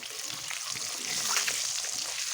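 Turmeric frying in hot oil gives a steady, hissing sizzle that grows slightly louder midway, heard close up over a short stretch.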